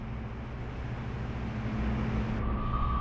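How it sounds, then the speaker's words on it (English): Steady low engine rumble of a submarine in the naval combat game Cold Waters, heard from depth as a continuous droning hum that swells slightly louder near the end, with a faint tonal whine appearing late. "I hear noises of an engine."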